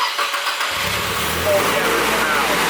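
A Nissan S14 Kouki car engine that had sat abandoned cranks and starts up, catching quickly into a loud, steady, rough idle close by, with a brief rise in revs partway through.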